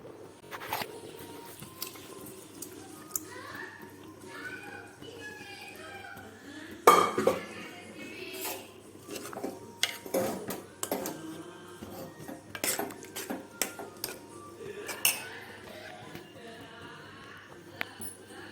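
A metal ladle scrapes and clinks against a cooking pot as lentil and drumstick sambar is stirred while it boils, giving irregular sharp knocks and scrapes close by, with a person talking throughout.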